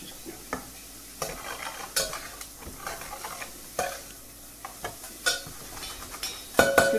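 Garlic stirred with a metal utensil in a Saladmaster electric skillet: repeated sharp scrapes and clinks of metal on the pan surface over a steady low sizzle, close and fairly loud, no talking.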